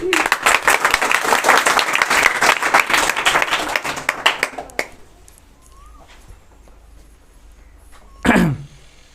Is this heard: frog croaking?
no